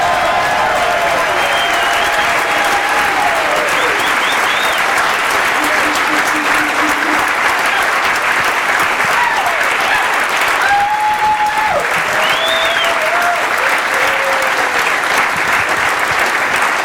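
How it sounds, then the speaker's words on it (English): A live show audience in Atlanta gives a sustained round of applause, a loud, even roar of many hands clapping with faint cheers and whoops rising through it. "give us a round of applause"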